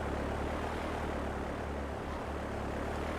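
A propeller airplane engine droning in GTA III during rainy weather, a steady loud continuous hum with no talk.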